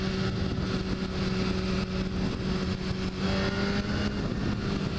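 A 2013 BMW S1000RR motorcycle engine drones steadily and loud throughout, with a slight shift in pitch partway as it downshifts and pulls again, no talk over it.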